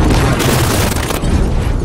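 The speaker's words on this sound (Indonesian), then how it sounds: "Bom yang berada di dalam mobil juga meledak." Car bomb exploding in an action film: a loud, booming blast with heavy low rumble and crackling debris, sustained and dense for about two seconds.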